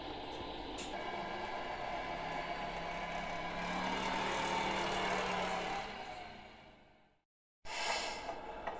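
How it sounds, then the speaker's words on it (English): A Tamiya MFC-03 engine sound unit in a model truck plays a quiet, rumbling diesel-like drone with hiss. It cuts out abruptly near the end, then restarts briefly. "we have sound, and we even have some exciting vibration in the engine department"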